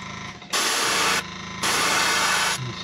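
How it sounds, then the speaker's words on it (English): Two hissing bursts from an aerosol spray can spraying paint onto a fishing lure, the first shorter, the second longer, loud and close with a brief quiet gap between them. "spray this around the front."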